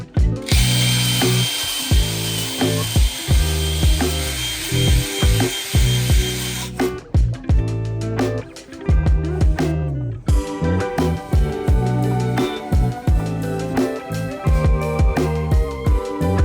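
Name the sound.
honing engine block cylinder bores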